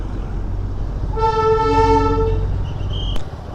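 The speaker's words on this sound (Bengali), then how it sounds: "এখানে টয় ট্রেনের ইঞ্জিন" A small Darjeeling toy train engine idles at a station with a low rumble, then sounds one long, steady horn blast lasting about a second, followed by a sharp click.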